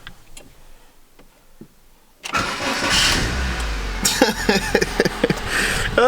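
Honda S2000 engine cranking and catching after a quiet lead-in, settling into a loud, steady idle with rhythmic ticking revs close up.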